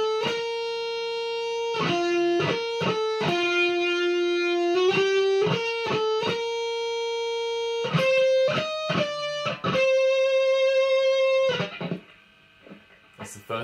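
Electric guitar shred lick, picked fast in bursts of quick notes with sustained held tones between, loud and close, ending in a brief noisy scrape.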